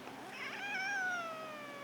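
A single cat gives a drawn-out meow that rises and then slowly falls in pitch, fairly close and clear over a quiet background, with nobody speaking.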